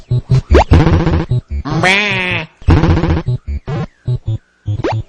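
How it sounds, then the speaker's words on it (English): Repeated bleating sheep calls in a video game, loud and close, in rapid bursts with short gaps, one long wavering bleat in the middle, over a bouncy game soundtrack. "I like the sheep sound effects."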